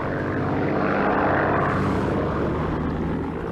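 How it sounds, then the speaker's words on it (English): A vintage seaplane flies over the Bay of Islands, its propeller engine giving a steady, loud droning roar that holds constant throughout with no voices. "A trip in a vintage seaplane is another way to really appreciate the Bay of Islands."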